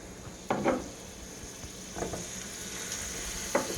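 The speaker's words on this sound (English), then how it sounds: "First thing you're going to do is throw some butter in there." Butter sizzling in a hot grate skillet, a constant hiss with a few sharper crackling bursts as it melts.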